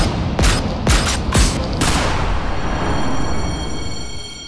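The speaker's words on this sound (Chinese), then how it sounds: "开枪啊！" Gunfire from a Chinese comedy film trailer, three loud sharp shots about half a second apart, then a sustained ringing, echoing tail with no talk over it.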